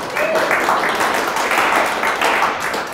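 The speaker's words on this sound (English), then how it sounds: "Come on, guys, clap." Audience clapping at a talk on decentralized private machine learning, a steady broadband patter of many hands lasting throughout, fairly close and even in loudness, with no speech over it.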